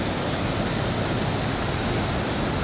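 The Bindusara river flows below a lake spillway with a dense, even hiss of rushing water, steady and unbroken throughout, with no voices.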